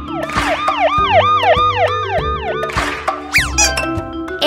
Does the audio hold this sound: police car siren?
yes